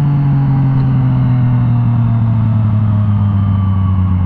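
Yamaha FZ09 motorcycle engine held in first gear during a wheelie, a loud steady droning note with strong low hum that climbs slightly in pitch, no voices.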